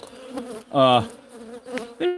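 Bees buzzing in short bursts, one loud close drone in the middle flanked by fainter passes, with a final buzz starting at the end.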